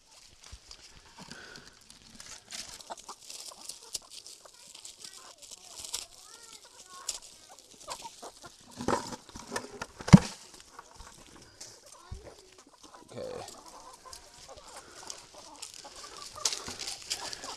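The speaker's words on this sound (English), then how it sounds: "here I have my chickens and ducks" Chickens and ducks cluck and mutter in scattered bursts, with a few louder squawks, close by and fairly quiet, amid some handling noises and occasional voices.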